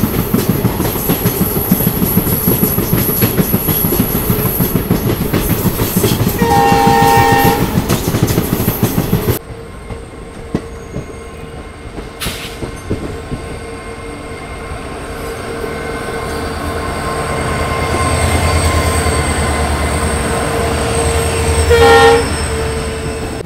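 A sleeper-class train on the Bengaluru–Sindhanur route rolls into Munirabad railway station, loud clattering and wheel squeal fading as it slows, with long horn blasts sounding before and after the quieter stretch.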